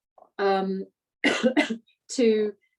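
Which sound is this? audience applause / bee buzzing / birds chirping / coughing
coughing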